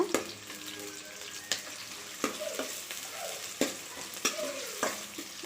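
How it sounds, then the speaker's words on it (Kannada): Onions fry in hot oil in a pan for a home-cooked egg curry, a steady quiet sizzle broken by several sharp clicks and scrapes of stirring, close and with no talking. "ಈರುಳ್ಳಿ ಗೋಲ್ಡನ್ ರೆಡ್ ಆಗಬೇಕು ಚೆನ್ನಾಗಿ ಎಣ್ಣೆಯಲ್ಲಿ ಫ್ರೈ ಆಗುತ್ತೆ"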